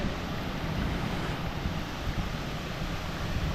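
A hidden waterfall in Valparai roars as a steady, loud broadband rush of falling water, constant and close throughout with no voices.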